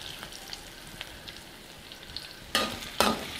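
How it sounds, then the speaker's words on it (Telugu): Boiled small potatoes frying with onions in a pan give a soft steady sizzle, broken by two sharp louder bursts near the end as more go into the oil. "వీటిని కూడా బాగా వేయించుకుందాం."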